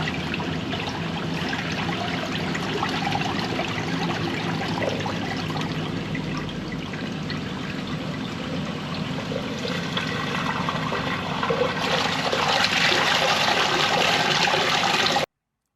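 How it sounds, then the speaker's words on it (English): Toilets flushing in a flooded restaurant basement during a drainage call-out, a steady rush of running water throughout that swells louder near the end. "we might as well check the toilets, make sure they're flushing through."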